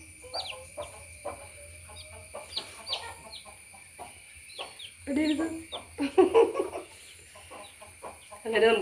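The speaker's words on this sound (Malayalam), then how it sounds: "അങ്ങനെ നമുക്ക് 6 കോഴിക്കുട്ടികളെ കിട്ടിയിട്ടുണ്ട്. അവരൊന്ന് കൂട്ടിലേക്ക് ആക്കണം." Six newly hatched chicks and hens peep and cluck as they are moved into a coop, with repeated high chirps throughout, closer fuller clucking in the second half, and some brief human voice in between.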